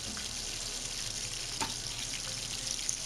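Chicken drumsticks frying in hot oil over a low flame, giving a steady, even hiss and sizzle that runs throughout with a single brief crackle midway, close and moderately quiet, with no voices.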